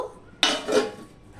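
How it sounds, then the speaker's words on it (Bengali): A single close metallic clank as a lid is set onto a cooking pot of egg and chickpea curry, followed by a brief ringing rattle that fades. "এবার আমি আবার একটু ঢাকা দিয়ে দেব।"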